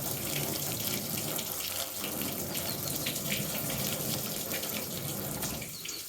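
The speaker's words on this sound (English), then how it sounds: "Now, this is a low pressure rinse." Low-pressure water rinse spraying over a car during a snow foam wash, a steady broadband gush running continuously at close range with no talking.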